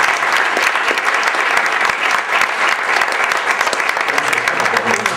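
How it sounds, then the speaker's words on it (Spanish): An audience at a talk breaks into dense, sustained applause, many hands clapping together at a steady, fairly loud level from start to finish. "Daremos un voto de aplauso a Jorge."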